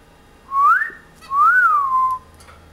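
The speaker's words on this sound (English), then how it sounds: "Can you whistle like that?" A person whistles two clear rising-and-falling tones, the second longer and swooping, close and fairly loud in a quiet room with no talking.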